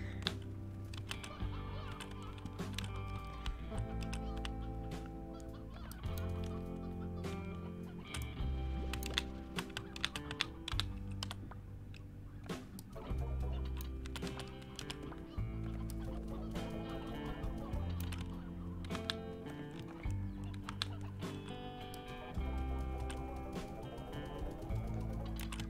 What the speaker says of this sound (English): Chicks.